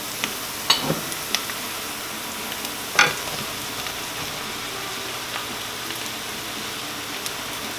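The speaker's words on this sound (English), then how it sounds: "At this point we're going to add all the mushrooms." Mushrooms hitting a hot pan for chicken marsala, a sharp burst of sizzling with a few clattering drops early on, then a steady close crackle that carries on alone.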